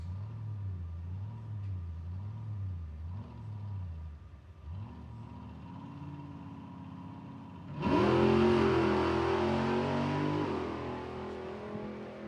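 A high-horsepower drag car works at a strip, with a wavering low engine note that climbs, then bursts into a loud, harsh roar of a run that fades slowly as it heads off into the distance.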